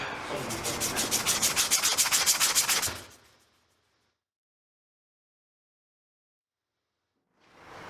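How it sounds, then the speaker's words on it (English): Rhythmic back-and-forth rubbing on the edge of a 1994 NTV Scrambler motorcycle handlebar to take the paint off, loud and close for about three seconds, then silence before the scraping starts again. "rub down the edge of this handlebar just to take the paint off"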